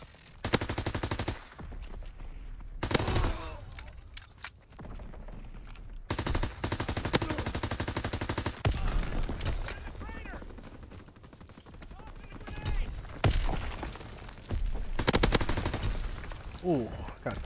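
Gunfire in Call of Duty: WWII gameplay: rapid machine-gun bursts and single shots crack out in irregular clusters, loud and close, with brief pauses between volleys and a voice talking over parts of it.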